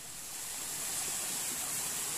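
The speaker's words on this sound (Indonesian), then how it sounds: "Ini adalah air terjun, Lur ya." A waterfall at a freshwater spring where people fish makes a continuous, even rushing roar close by, with no voices.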